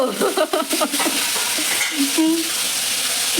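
A fish head sizzles and spits in hot oil, a close, constant crackle with a few stirring scrapes near the start.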